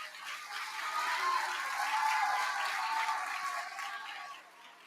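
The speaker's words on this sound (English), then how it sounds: "Give him another round of applause." An audience gives a round of applause at an event, the clapping swelling to a steady roar before fading away at the end.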